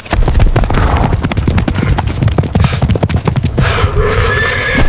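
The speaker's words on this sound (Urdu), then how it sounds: "ڈاکوؤں کے جنگی گھوڑے بہت ہی بے دردی سے ہانپ رہے تھے۔" Bandits' war horses gallop hard, with loud continuous hoofbeats pounding throughout, and sharp whinnies rising near the end.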